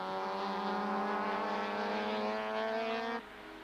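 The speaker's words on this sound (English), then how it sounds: "This is the battle for the lead in Class B, with round 7 winner Hein Lagergren ahead of" Super Touring race car screaming past at Kyalami circuit in South Africa, a loud high engine note rising in pitch before cutting off sharply near the end, with no voices.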